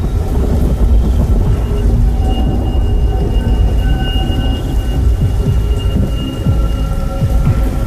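Steady heavy rain pours down without a break, with low rumbling thunder rolling underneath throughout.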